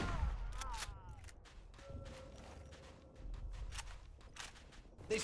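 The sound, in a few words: gunfire with muzzle flashes in a video game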